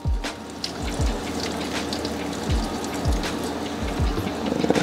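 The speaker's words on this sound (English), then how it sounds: "we're gonna go ahead and just add a little bit of that juice from the chili pods that we cooked up" Cooking juice from boiled chili pods is poured into a blender for birria, a steady liquid splash and trickle with small dripping plops, close and fairly quiet, running the whole time.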